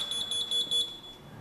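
A smart house alarm beeps in a steady series of short, high, even pulses over a faint background, then stops.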